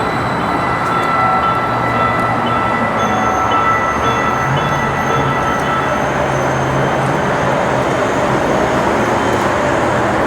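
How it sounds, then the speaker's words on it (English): A Denver light rail train passes Orchard Station, its steady loud rumble and rolling wheel noise filling the whole stretch, with faint high metallic squeal tones drifting above and no talking. "So there goes the train."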